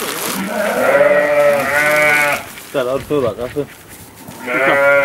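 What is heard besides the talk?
sheep bleating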